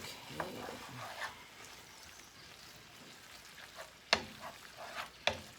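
Bacalao codfish and yellow rice stirred in a pan, a faint steady sizzle with a few sharp scraping clicks of a utensil against the pan, quiet and close, with no talk.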